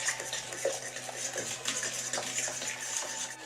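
A spoon stirring an egg into carrot muffin batter in a bowl, giving soft, continuous wet scraping and light clinks against the bowl, close and quiet, with no talking.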